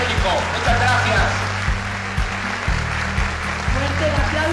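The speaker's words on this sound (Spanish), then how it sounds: "Fuerte el aplauso" Audience applause at a Mexican teachers' union ceremony, steady clapping from a crowd filling the hall throughout, with a loud tonal hum running beneath it.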